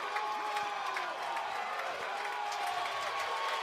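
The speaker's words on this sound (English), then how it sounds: "And the Texas crowd is starting to show some signs of life." Stadium crowd at a Texas versus Texas A&M college softball game gives a steady, distant murmur with scattered cheers and some clapping under the general din.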